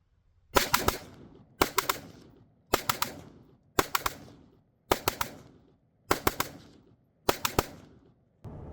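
An XCR rifle is fired outdoors during a cold-weather function test with cold ammunition, making seven sharp bursts of two or three quick shots each, evenly spaced about a second apart, loud and close with short echoing tails.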